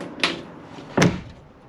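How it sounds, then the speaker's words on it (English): A motorhome's shower door bumps shut twice, a light knock followed by a louder, fuller thud about a second later, close by in a quiet room. "And then you can shut this door."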